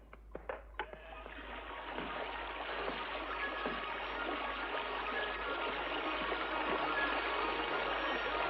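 Water released from a stream rushes down a chute, starting after a few knocks and building into a steady broad gushing flow that stays loud and continuous to the end.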